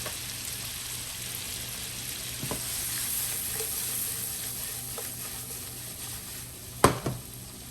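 Chopped mushrooms and sun-dried tomatoes sizzle and simmer in a pan, a soft continuous frying hiss with a few faint utensil clicks and one sharper knock near the end.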